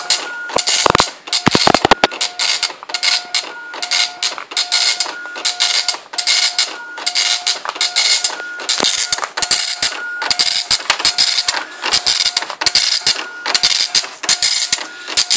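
A printer attached to a Commodore 64 prints out a disk directory, a loud, close, rapid stream of repetitive mechanical chattering with short pauses between lines.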